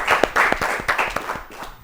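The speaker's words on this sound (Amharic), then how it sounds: "አጨብጭቡላቸው ለሁሉም ተማሪዎች።" An audience of students and onlookers at a televised Ethiopian children's quiz show claps in a short burst of loud, close, uneven applause that tapers off.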